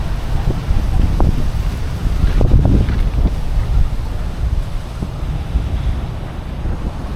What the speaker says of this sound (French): le petit vent frais là, super